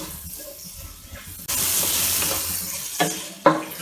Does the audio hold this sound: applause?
no